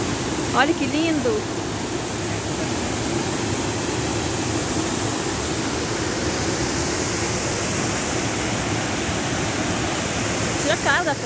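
Véu de Noiva waterfall at Poços de Caldas roars as a steady, loud broadband rush of falling water, close by, with brief bits of people's voices over it.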